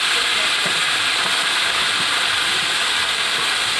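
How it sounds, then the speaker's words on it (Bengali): Bathua greens sizzle in hot oil tempered with nigella seeds and dried red chili, a loud, steady, close hiss of frying that runs unbroken from start to finish with no voices. "ওই তেলের মধ্যে এবার কালো জিরে আর শুকনো লঙ্কা ফোড়ন দিয়ে দিচ্ছি, দিয়ে শাকটা দিয়ে দিলাম।"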